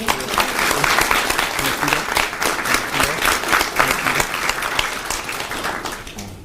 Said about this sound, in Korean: 환영의 박수 한번